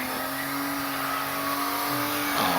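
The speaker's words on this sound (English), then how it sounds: "Right side burnout?" A truck holding a right-side burnout at a competition, engine revving hard and steady with a sustained harmonic drone and a rising surge near the end, loud and close with no talk over it.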